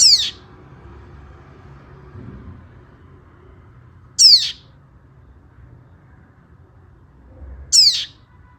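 Three short, bright bird calls ring out at wide intervals, each a quick descending chirp standing clearly above a quiet low rumble, with no talking.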